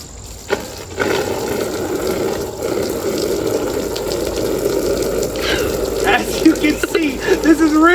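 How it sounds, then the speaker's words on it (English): Cold water is poured over a globe and runs off it in a steady splashing gush, with trickles and drips toward the end, close and fairly loud. "the water is just running off"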